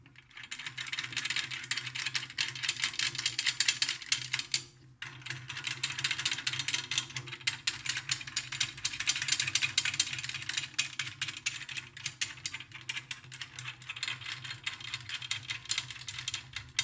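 Snare drum tension rods turned by hand until each screw just meets the hoop, a dense, continuous ratcheting clicking and scraping that runs nearly the whole time, briefly pausing once partway through.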